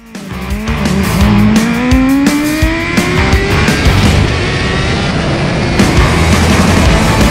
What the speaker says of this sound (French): 273 chevaux moteur, 250 à la roue, 3 roues